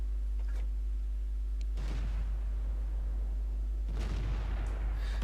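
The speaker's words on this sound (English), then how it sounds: "Mac takes the shot and polishes him off for kill number 1 on the Stug 3G" Distant artillery boom from a Bishop self-propelled gun in World of Tanks, striking a StuG III G, with two muffled broadband thuds over a steady low engine hum.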